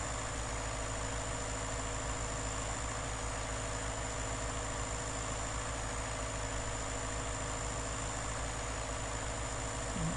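An old-school John Deere tractor idles in Farming Simulator 19, a steady, continuous engine drone with a low rumbling hum and faint vibration, unchanging and alone with no voices.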